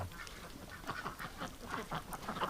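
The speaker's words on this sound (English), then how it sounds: "Those Muscovies are so dirty." Muscovy ducks in a winter outdoor setting give repeated short, raspy quacks and hisses in a loose, overlapping rhythm, close by and fairly soft, with no talk.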